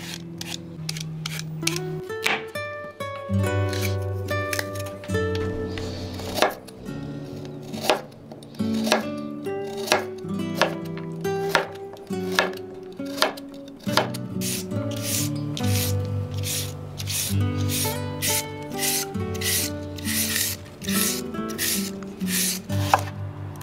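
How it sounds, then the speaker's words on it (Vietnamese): A carrot is peeled and grated into thin strands, with repeated rasping, scraping strokes in an uneven rhythm, close and fairly loud, and no speech. "Cà rốt mình gọt vỏ và bào sợi thành những sợi mỏng"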